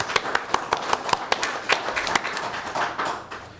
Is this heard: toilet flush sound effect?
no